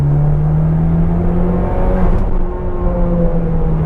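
A car with automatic transmission pulling hard in fourth gear under throttle gives a loud, steady engine drone with a slowly rising tone, heard from inside the cabin without speech.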